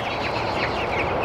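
Young chickens about three weeks old in a movable cage on a homestead give dense, continuous overlapping clucks and chirps close by, with no talking.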